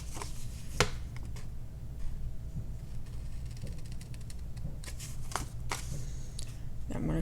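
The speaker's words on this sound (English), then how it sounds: "We're going to cut outside the score line" Scissors cutting paper outside a score line for a journal pocket, a series of quiet close snips and rustles, soft and intermittent over low background hum, with a voice talking throughout.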